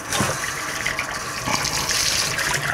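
Cold water gushes steadily from a fill hose into a fermenter for home-brewed red wine, a loud continuous rushing stream close by, heard alone.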